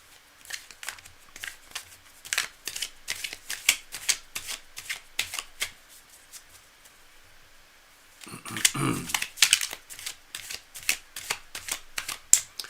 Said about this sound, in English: Cards are nicely shuffled.